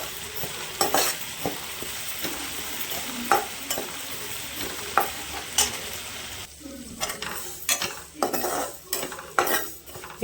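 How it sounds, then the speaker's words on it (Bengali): Papaya and mung dal frying in a pan, stirred with a utensil: steady sizzle broken by repeated scraping clinks at an uneven rhythm, close and fairly loud, with no talking. "এটা ভালো করে ভাজা ভাজা হয়ে যায়।"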